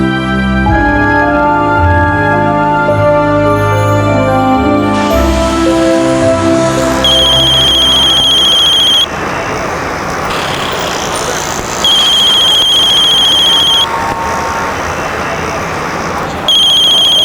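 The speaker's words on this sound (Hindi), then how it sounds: "मैं तुम्हें कितनी देर से कॉल कर रही हूँ, तुम मेरा फोन क्यों नहीं उठा रहे हो?" A phone rings with an incoming call in repeated electronic tones, loud and close, alongside road and traffic noise from a ride on a bike.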